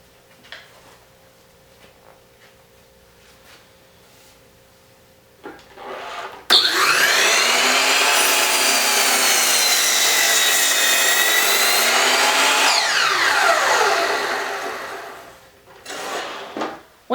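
A power saw cuts lumber for the top of an outdoor bench, whining up loudly and holding a strained, pitch-shifting buzz for about seven seconds before winding down, with quieter workshop clatter before and after.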